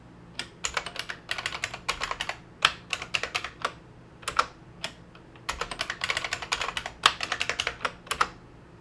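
Someone types a long password on a computer keyboard, a quick close clatter of key presses in bursts separated by brief pauses, heard clearly with no voices over it.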